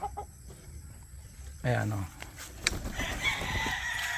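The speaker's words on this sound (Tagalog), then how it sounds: "5 months old to manok na to." A five-month-old chicken clucks and crows close by in short bursts, with a person talking intermittently over the bird sounds.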